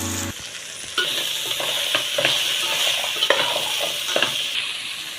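Carrots and beetroot for a veg biryani are stirred in a hot pan, a steady sizzle broken by roughly one scraping spoon stroke per second, close and with no talking.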